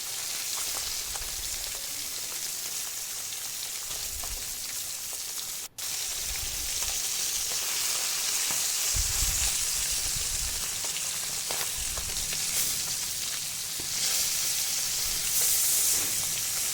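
Small fish fry in hot oil in a well-heated kadhai, a steady close crackling sizzle running throughout with occasional soft stirring bumps and no talk.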